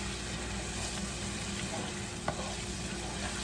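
Spices are stirred into biryani masala in a pan, with a constant close sizzle and frying hiss and one faint scrape of the spoon.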